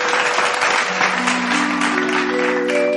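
A stage-show audience claps loudly and continuously to welcome a singer, as sustained musical tones rise in the background.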